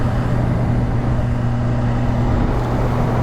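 A Kawasaki Ninja H2 motorcycle hums steadily and close by as it is ridden, a constant low engine drone with a smooth, even tone and no talking.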